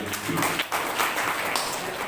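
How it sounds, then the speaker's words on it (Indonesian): A crowd applauds with dense, steady clapping throughout, fairly loud and close. "Tepuk tangan untuk dua penanya."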